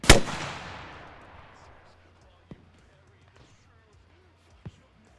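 A rocket launches with a sharp, loud blast in Arma Reforger, its roar trailing off over about two seconds, followed by two faint distant cracks; voices talk quietly in the background.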